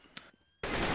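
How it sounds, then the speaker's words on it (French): Counter-Strike match gunfire on the Cache map, a sudden loud dense burst of shots cutting in after a moment of near silence and a couple of faint clicks. "c'est Device qui va tomber sous les balles d'Apex"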